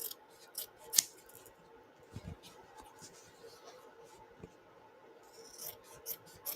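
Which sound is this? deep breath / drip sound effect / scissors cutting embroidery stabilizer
scissors cutting embroidery stabilizer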